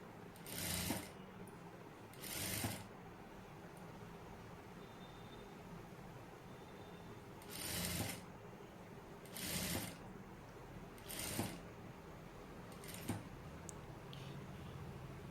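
A sewing machine stitches piping on boutique-style tailoring in short bursts, six quick runs of whirring stitches separated by pauses of near silence, faint and close.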